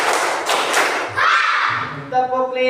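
Classroom of students clapping in counted rhythm, a short burst of claps followed by a louder, sustained clap, then a voice speaking near the end.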